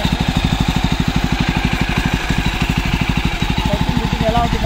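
A Jawa Classic 300 BS6 motorcycle engine running close by, a loud, even, rapid thumping pulse held steady throughout with no speech over it.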